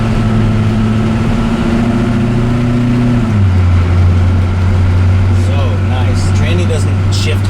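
A CUCV M1008 truck engine runs steadily on a test drive, a loud low drone that drops in pitch partway through as if shifting, with faint higher clicks and rattles later.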